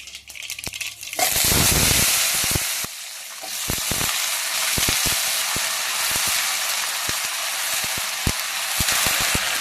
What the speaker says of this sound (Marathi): आता या धुतलेल्या शेंगा आपण त्या कढईमध्ये टाकून घेऊ